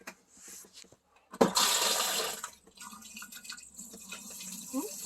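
Pink antifreeze poured into the toilet tank of a Riverside Retro 135 trailer being winterized: a sudden loud rush of liquid that runs about a second, then settles into a quieter trickle and gurgle.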